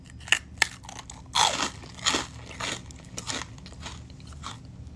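Crunchy, crispy biscotti is bitten into and chewed up close, with sharp cracking bites followed by a run of gritty crunches and softer chews.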